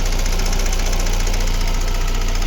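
A car engine with a knock idles steadily up close, with a fast, persistent metallic ticking running through the low rumble.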